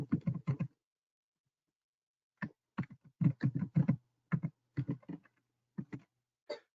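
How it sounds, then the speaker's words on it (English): Bursts of quick key clicks on a computer keyboard as passwords are typed, close and crisp, in short clusters separated by pauses, with no talking. "So we'll go ahead and type this in."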